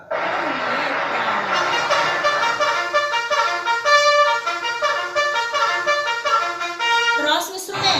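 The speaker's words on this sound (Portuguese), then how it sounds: "Esse é o som da Corneta." Cornet playing a bright brass melody, with steady sustained notes and clear harmonics, loud and close throughout, ending with a brief breathy noise.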